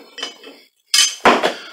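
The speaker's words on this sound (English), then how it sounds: "I dropped a wood mallet over there" A wooden mallet falls onto a workshop floor near a wood lathe, giving a few sharp clattering knocks close by, with a brief silence between the first soft knock and a louder pair.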